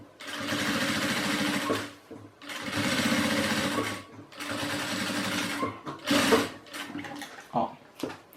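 A sewing machine stitches the lining of a maternity bag, running in three long, steady near bursts with brief pauses, then shorter, choppier runs of stitching toward the end.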